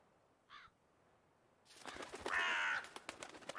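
A crow-like bird caws loudly and harshly a few times after a faint short call, set in a quiet ambience from the video game The Witcher 3: Wild Hunt.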